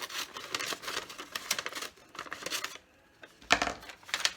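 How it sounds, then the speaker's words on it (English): Scissors cutting down the center of a handmade paper journal while crafting grab bags, a run of close, crisp snipping and paper rustling with a short pause before a few final cuts. "And again, we're going to cut down the center."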